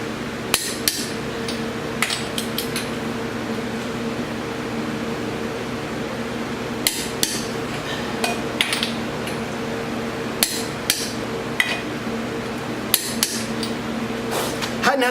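A torque wrench tightens wheel lug nuts to 100 in a star pattern, giving sharp, close clicks in short clusters spaced several seconds apart over a steady low hum of background noise.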